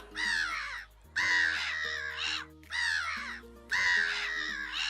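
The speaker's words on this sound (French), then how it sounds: "la mouette rieuse que Gérard avait récupérée en haut du cocotier monta sur la table" A black-headed gull gives loud, harsh, repeated crow-like cries as an audiobook sound effect. There are four distinct calls in a row, separated by short pauses, and no voice is heard.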